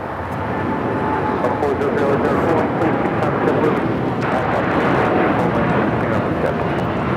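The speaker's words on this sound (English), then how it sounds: "This is United Airlines 801 taking off to Hong Kong on the 787-9 Dreamliner" A United Airlines Boeing 787-9 Dreamliner takes off from Los Angeles LAX bound for Hong Kong, its engines a steady, loud, broadband roar that holds for several seconds while voices talk over it.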